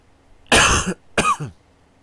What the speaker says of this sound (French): Je suis vraiment désolé pour la toux.